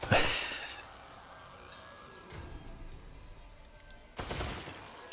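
Gunfire in the survival horror game The Evil Within 2: a loud burst at the start and another sharp blast near the end, with a softer thud between them.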